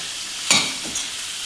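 Spiced chicken mixture, with salt and homemade spices added, stirred in a pan: one brief, close scraping stroke over a soft background hiss, with a fainter second scrape just after.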